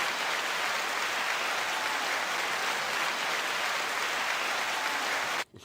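Steady, dense applause from a crowd, with even clapping throughout that cuts off abruptly near the end.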